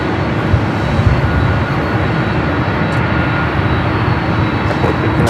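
Loud airliner jet engines at Los Angeles airport, a heavy, close, continuous roar with deep rumble dominating the whole stretch, no voices.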